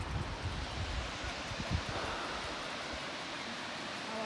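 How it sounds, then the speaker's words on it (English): Waterfall at the botanical gardens in Johannesburg, South Africa, a steady broadband rush of falling water heard close up and fairly faint, with some wind buffeting on the microphone in the first seconds. "The waterfall."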